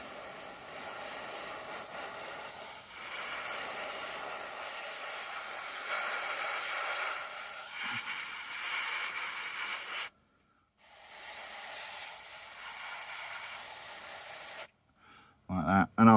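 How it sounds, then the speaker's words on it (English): XF1 flat black paint is sprayed onto the chassis and cab interior of an Airfix 1/43 scale Land Rover Series 1 Pickup model, a soft steady hiss in long bursts separated by brief pauses. "we're going to paint the chassis and the inside of the cab with this XF1 flat black"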